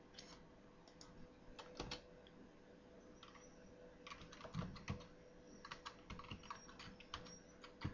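Keys clatter on a computer keyboard as a web search is typed, a run of close, quick clicks in uneven bursts with short pauses between them.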